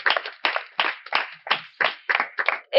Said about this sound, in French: un tonnerre d'applaudissements pour notre grand roi